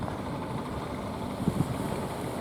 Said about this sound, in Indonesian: Ternyata ada juga yang menyalakan mesin, nyetater mesin, nyelenger mesin